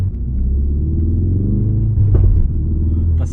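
A Ford Focus RS Performance Pack (2016) rumbles steadily at close range, its engine drone holding throughout, with a couple of short crackling exhaust pops breaking through near the middle and again at the end.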